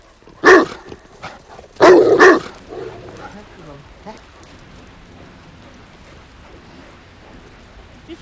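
A female show-champion dog lets out a few loud, close barks, one single and then a quick pair, followed by quieter background sound and faint voices.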